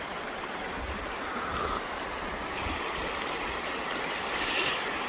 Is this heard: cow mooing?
no